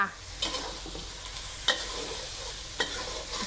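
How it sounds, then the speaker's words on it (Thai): Egg stir-fried with shrimp and squid in a pan, a low steady sizzle punctuated by three sharp scraping clacks of a spatula against the pan, spaced about a second apart. "เสร็จแล้วเราก็ตลบกุ้งกับปลาหมึกนะลงมา ผัดให้ไข่เซตตัว"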